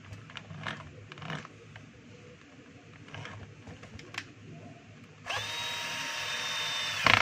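A DeWalt D21710 half-inch drill is tested after repair: several short clicks and brief whirring bursts, then at about five seconds the motor starts and runs steadily with a loud, continuous high whine.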